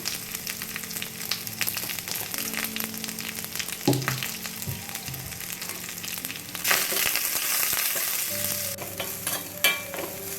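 Coriander leaves sautéing with salt in a pan for chutney, a soft continuous sizzle broken by occasional spoon scrapes and stirring clinks, close and fairly quiet.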